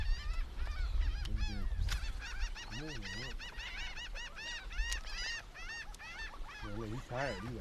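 A large flock of birds calls near a trout fishing spot, a dense overlapping chorus of honking cries close by, with low wind or water rumble underneath and occasional talk.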